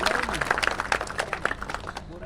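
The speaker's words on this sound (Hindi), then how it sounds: "जोरदार तालियां दीजिए राकेश भाई को।" Audience at a workplace safety awareness program applauds Rakesh, a dense, lively burst of many hands clapping at once, with voices mixed in.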